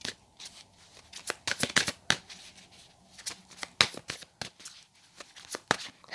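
Tarot cards are handled and shuffled nearby, with rapid crisp riffles and flicks in uneven bursts, fairly close and clear, alone without talk.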